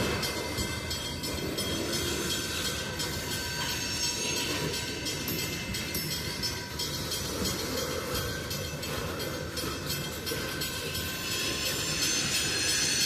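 A long freight train rolls steadily past a railroad crossing as it slows toward a stop, with continuous rumbling wagons, clanking couplers and wheel squeal close by and no talking.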